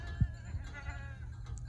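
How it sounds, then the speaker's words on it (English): Goats out in open ranch country, walking strung out single file near a mesquite tree, give a short low bleat early on and a fainter one after, over a steady background hum. "Kind of neat seeing all those goats strung out like that."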